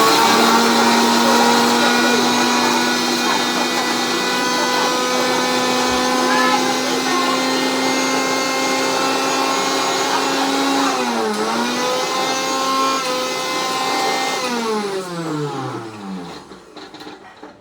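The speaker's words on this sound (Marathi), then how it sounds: "चाकू लागतंय जरा मिक्सरला बारीक फिरवून घेते थोडंसं" Onion being ground fine in a kitchen mixer grinder, a loud close motor whine holding a steady pitch before dipping and winding down at the end, with voices talking over it.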